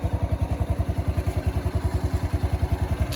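A 2020 Ryuka Classic 110cc motorcycle engine runs up close with a rapid, even, throbbing pulse that holds steady throughout.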